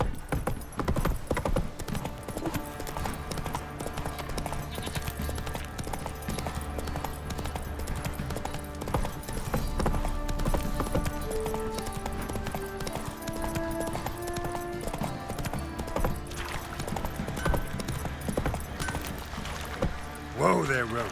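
Roach, the horse in The Witcher 3, trotting in a regular clip-clop beneath game music and ambience, with a voice talking over it.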